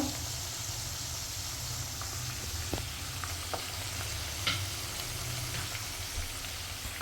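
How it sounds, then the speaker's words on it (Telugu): Unseasoned chicken pieces fry in hot oil in a Hyderabad-style chicken fry, giving a steady, even sizzle with faint scattered pops and no talking. "సింపుల్గా ఫ్రై చేస్తున్నాను అన్నమాట"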